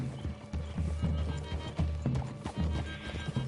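Horses trotting in the video game Red Dead Redemption 2: close, rhythmic clip-clop hoofbeats with an occasional snort or whinny mixed in.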